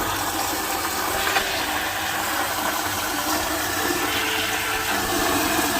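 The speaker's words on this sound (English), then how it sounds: "Great flush though." Toilet flushing in a public restroom stall, a steady loud rushing of water that fills the space without pause, close by and alone with no talk.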